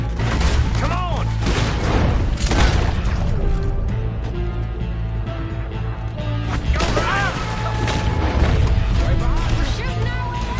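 Gunfire in Red Dead Redemption 2 rings out in a loud shootout, with repeated sharp shots and booming blasts under shouting voices.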